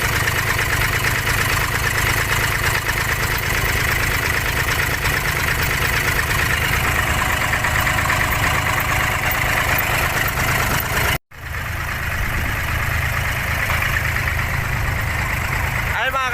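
Engine of a wooden abra boat without outriggers crossing Dubai Creek, idling in a loud, steady, close rumble with a brief dropout near the end, then resuming.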